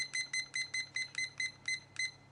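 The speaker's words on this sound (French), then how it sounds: "je vais mettre mon minuteur" A kitchen timer being set in a home kitchen gives a quick run of about ten short, bright electronic beeps in an even rhythm, close and fairly faint, with no talking.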